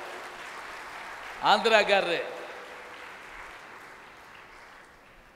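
A lecture-hall audience at a Tamil motivational talk claps in a faint, steady patter that fades gradually, with the speaker's voice breaking in briefly over it.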